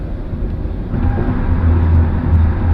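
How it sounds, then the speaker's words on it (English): Steady road noise from an electric car's tires rolling on a Las Vegas, Nevada freeway, a low rumbling roar that swells slightly partway through, with no talking. "this tire noise on this loud road is mind-numbing"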